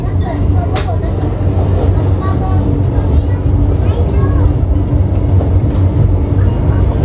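Argo Semeru passenger train in motion, a steady low rumble of the carriage heard from inside, with voices and someone speaking faintly over it.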